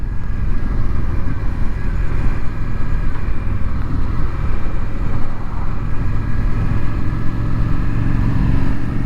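A 2025 Indian Scout Sixty motorcycle engine cruises steadily on an evening ride, a constant low rumble with wind noise running close and loud throughout, without clear revving changes.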